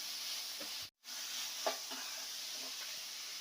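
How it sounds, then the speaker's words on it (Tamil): Onion, garlic and ginger sauté in a kadai for a Kerala-style pearl spot fish masala, a soft, steady sizzle with a few light stirring taps and a brief silent gap. "இது வெங்காயம், பூண்டு, இஞ்சியெல்லாம் பச்சை வாசம் போல நல்லா வதக்கிக்கலாம்."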